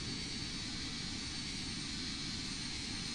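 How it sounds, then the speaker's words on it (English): Steady broadband airliner engine hum from the Roblox game Flightline3D while the aircraft pushes back, a constant even drone with no talk. "We'll begin our push back."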